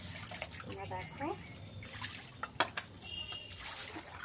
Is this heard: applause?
no